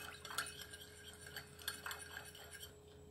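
A spoon stirring sugar into hot water in a bowl, heard as a rapid run of faint, light clinks of metal on ceramic, close and continuous, over a steady low hum.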